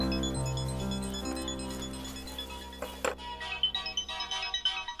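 A melodic electronic phone ringtone plays in repeating bursts, moderately loud and close, with background clatter and no talking.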